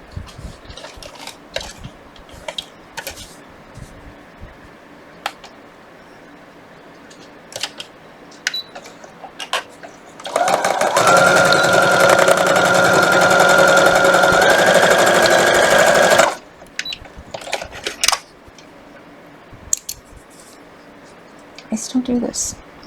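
A sewing machine stitches two quilt pieces together in one steady, loud whir of about six seconds. Quieter handling noises and talk come before and after it.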